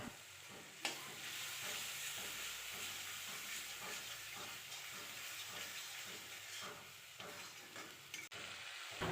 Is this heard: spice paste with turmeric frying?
yes